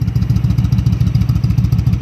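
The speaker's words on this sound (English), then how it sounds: "Nothing like the sound of a V-twin engine." A 2009 Kawasaki Vulcan 1700 Classic LT V-twin with aftermarket exhaust pipes idles steadily close by, giving a deep, loud, rhythmic loping throb with a clattery edge and no voices.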